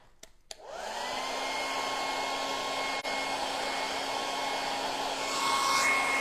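A hair dryer blows on gold leaf stencil work, starting after a couple of clicks and then running in a steady, close whir with a constant high whine; a brief knock breaks in midway.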